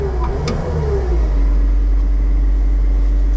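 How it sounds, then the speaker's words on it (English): Skid steer engine revving as the gas pedal is pressed, a loud steady mid-pitched rumble with a brief rising surge near the start, then holding at a constant drone with no talking. "There's a gas pedal right there. See the gas pedal? That can rev it up."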